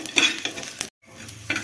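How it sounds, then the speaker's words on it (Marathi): Garlic and ginger being dry roasted in a pan for a dhaba-style gawar (cluster bean) curry, with scraping stir strokes and a soft sizzle that stops briefly in the middle, then resumes. "हा लसूण थोडासा भाजते मी, अद्रक आणि लसूण।"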